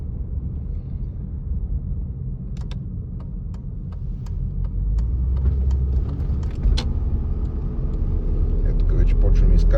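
A 1998 Ford Scorpio with a 2.3L engine drives along and starts a climb: a steady low engine and road rumble swells louder midway, with light ticking clicks and a voice talking faintly over it.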